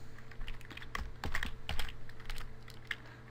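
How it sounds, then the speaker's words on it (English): Keystrokes on a computer keyboard as a phone number is typed in, a close run of irregular clicks with short pauses, no voices. "I'm going to type in my number."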